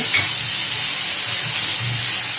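Chutney ingredients sauté in a pan with a loud, continuous close-up sizzle and hiss, with soft low stirring thumps underneath and no talk.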